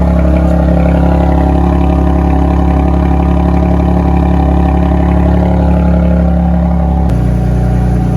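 A Dodge Challenger GT idles after a remote start, a steady, loud low rumble that holds for about seven seconds before the pitch drops slightly as the idle settles.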